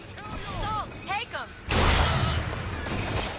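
Gunfire in the first-person shooter Bioshock Infinite: a burst of loud, dense shots and booms erupts midway and keeps going to the end, after a stretch of chirpy game sounds and a voice.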